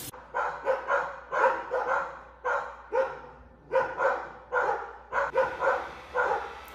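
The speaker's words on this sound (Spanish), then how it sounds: "¡Qué ladra, Jane!" A dog barks in a series of sharp, close, repeated barks in irregular clusters, loud and clear with brief gaps between bursts.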